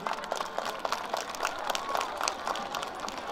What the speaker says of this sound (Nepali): ढोगिसकेपछि देवताले पनि आशीर्वाद दिँदै ताली ठोक्नु पर्छ